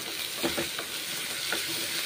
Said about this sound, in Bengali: মাশরুম ভেজে নিচ্ছি এবং মুসুর ডাল, দুরকম ডাল, মুগের আর মুসুর ভেজে নিচ্ছি